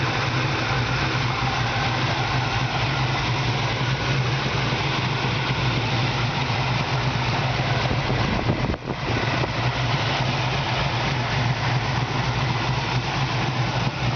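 A 1970 Camaro with a 454 big block, fiberglass hood and cowl induction, idles steadily with a deep, continuous rumble up close, broken only by a brief dip near the middle.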